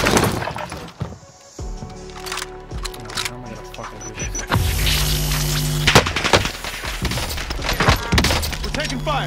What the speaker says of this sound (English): this M1 Garand is very powerful